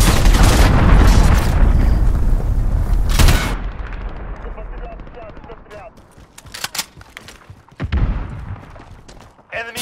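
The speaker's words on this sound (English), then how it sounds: "Allied cruise missile" Heavy, loud booming blasts of an allied cruise missile strike in Call of Duty: Modern Warfare, with a dense roar in the first few seconds followed by scattered thuds and gunfire, voices and game callouts underneath.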